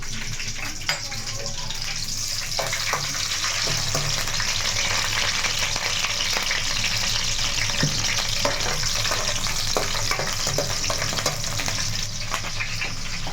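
Green chillies fry in a kadai for chicken curry, making a continuous close sizzle with scattered light stirring taps and some faint talk underneath.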